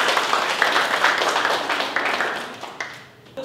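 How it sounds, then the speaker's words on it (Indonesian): Applause fills a classroom quiz session, a crowd's steady clapping with a few sharper individual claps, gradually thinning and fading out near the end. "Beri tepuk tangan dulu buat kita."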